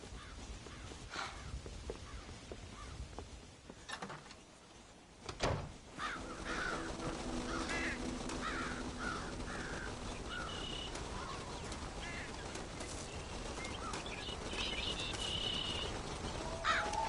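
Crows caw in a farm cornfield in the video game Red Dead Redemption, giving scattered harsh calls over a steady outdoor background, with a brief thump near the middle and no talking.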